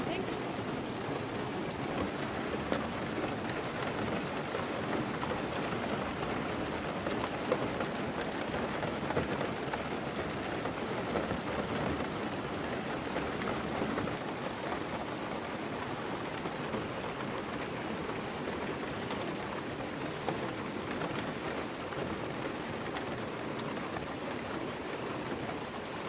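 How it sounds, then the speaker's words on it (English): Steady, heavy rain pours down without letup on a Piper Super Cub float plane in Southeast Alaska, a dense continuous hiss drumming on a surface close by. "it started pouring down rain"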